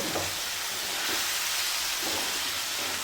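Chicken pieces frying in curry paste in a pan for a simple home-style chicken curry, giving a loud, steady, close sizzle with faint stirring scrapes underneath.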